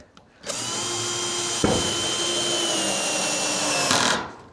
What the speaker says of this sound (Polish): Jak strzela na końcu wkrętaczka, to zwykle znaczy, że złapało.